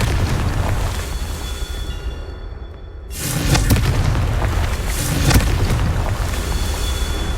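A Confringo fire spell explodes in the Hogwarts Legacy video game, a deep rumbling boom that swells after a short quieter lull and rolls on amid a dense, roaring game soundscape.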